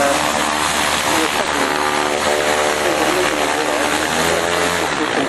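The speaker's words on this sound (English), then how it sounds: "You can see the gyrocopter there, which is doing a two-spin up of its rotor" A gyrocopter spinning up its rotor before departure drones steadily at a distance, a continuous whirring hum with slight pulsing throughout.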